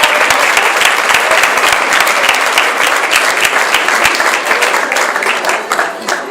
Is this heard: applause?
yes